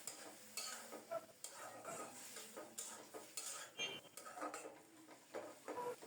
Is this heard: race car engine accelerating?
no